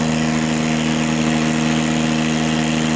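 Pump engine running steadily while inflating floats to lift a sunken wooden boat, a continuous droning hum with a strong low tone and no change in pace, close and loud.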